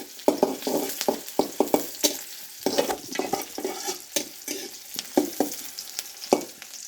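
Onions frying in a pan for a potato soybean curry, close scraping stirs with bursts of sizzling in an uneven rhythm, fairly loud, with no talking.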